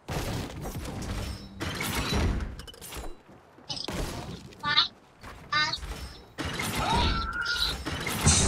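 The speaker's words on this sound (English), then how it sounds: "you can actually hear those trap things" Video game trap mechanisms creak, clank and whir in bursts, with metallic ratcheting and thuds between louder stretches, close and mixed with game noise, while a person talks over parts of it.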